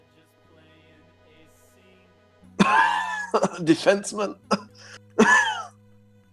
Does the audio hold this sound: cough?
yes